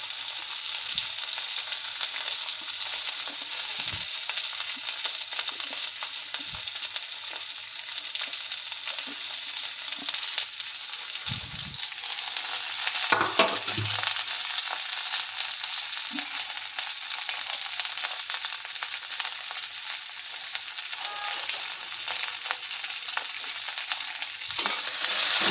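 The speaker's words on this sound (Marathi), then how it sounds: "भेंडी मंद आचेवर चांगलं खरपूस होईपर्यंत, चांगलं तांबूस होईपर्यंत भाजून घेऊयात." Country okra frying over low heat in a pan, giving a continuous even sizzle that runs throughout, with occasional light stirring scrapes and a few soft knocks, close and without talk.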